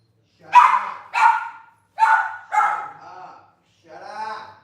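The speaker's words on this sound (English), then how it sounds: "The dogs are loud, I'm sorry." Dogs in a home bark five times in short, loud, sharp bursts with brief gaps between them, the last bark a little softer and higher.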